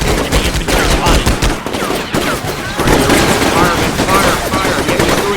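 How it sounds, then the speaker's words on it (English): Gunfire in the video game Combat Mission: Shock Force, set in a U.S. war on terror battle, crackles in loud, dense bursts of rapid automatic fire and overlapping shots that run continuously. "So our men have started returning fire"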